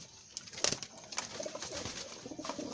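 Breeder's racing pigeons coo in their loft, a soft repeated cooing over steady background hiss and a few sharp flutters or knocks, with no talking.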